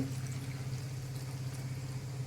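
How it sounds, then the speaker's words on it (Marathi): Water pours steadily into a cooker of cauliflower, peas and capsicum for pav bhaji, a continuous low splashing that runs unbroken for a couple of seconds at close range. "याच्यामध्ये आता मी पाणी घालून घेते"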